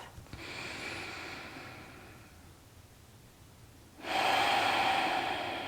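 Slow breathing during yoga relaxation: one long audible breath fading out, a pause, then another breath starting, close and soft with no talk.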